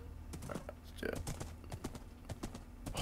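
Horse hooves clip-clop in a village kingdom exploration video game, a steady run of sharp clopping steps under the players' talk.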